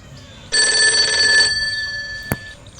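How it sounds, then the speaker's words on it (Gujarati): A telephone rings unanswered indoors, one loud electronic ring burst lasting about a second followed by a sharp click and a quiet background. "ફોન ઉપાડતા નહીં"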